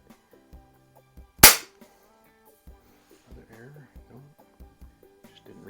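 A single sharp crack from a .177 Hatsan Jet 2 air rifle, loud and close, standing out against quiet background talk and faint handling noises.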